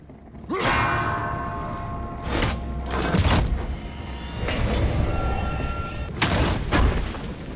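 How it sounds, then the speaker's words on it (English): A Nornir chest unlocking in God of War, heard as a run of heavy mechanical thuds and sliding, grinding stone-and-metal movements, with several loud clunks spread across the clip and no talking. "hit the rune to the right of the door to unlock the chest"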